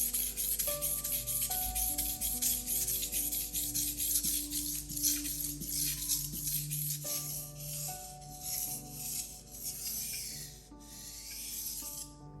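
Knife blade being sharpened on a Cerax whetstone, steady scraping strokes of steel on the wet stone, close and soft, with faint musical tones in the background.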